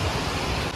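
Waterfall water crashes near a temple in a dense, steady roar heard close up and alone for under a second.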